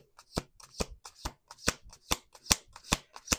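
Crisp, rapid riffling of tarot cards being shuffled up close, a quick run of sharp snapping clicks with no talking.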